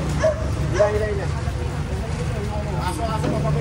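A dog barks and yips a few times in short bursts on a street sidewalk, close by and fairly loud, mixed with people talking and background traffic noise.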